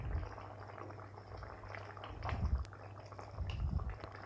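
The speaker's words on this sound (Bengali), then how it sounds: "দেখুন জলটা ফুটে গেছে" Water bubbles at a rolling boil in a pot for a katla fish curry, a soft low burbling with occasional louder surges, quiet and close with no voices.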